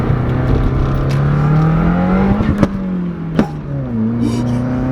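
Turbocharged all-wheel-drive car, fitted with a catless J-pipe exhaust, accelerates hard with a steady rising engine drone, punctuated by a few sharp turbo flutter chirps as the throttle lifts between gear changes, loud and close from inside.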